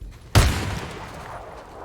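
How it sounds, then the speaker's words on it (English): A single sharp gunshot in the video game Days Gone Remastered cracks out, followed by a long rolling echo across hills that fades gradually. "showcases the rolling echoes of the gunfire very well"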